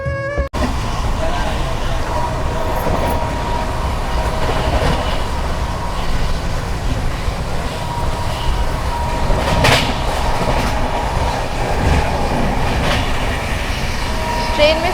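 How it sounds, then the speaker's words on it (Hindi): Riding inside an Indian passenger train, a loud continuous rumble with steady clickety-clack of wheels over rail joints for the whole stretch, with someone speaking over it. "ट्रेन में सफ़र करने का मज़ा ही कुछ और है।"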